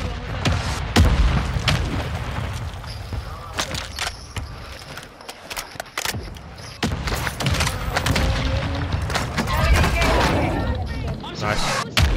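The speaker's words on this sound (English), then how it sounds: "Friendly mortar strike inbound." Mortar strike explosions boom through a Call of Duty Warzone 2.0 match, several heavy thuds and blasts scattered across the stretch amid steady game noise, with players talking over them.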